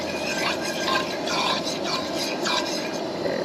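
About a quarter cup of heavy cream goes into melted butter in a pan over low heat, making a continuous soft sizzle and bubbling with light scraping and clinks, close and steady.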